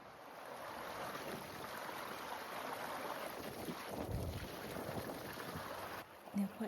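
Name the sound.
Brontë waterfalls, flowing stream water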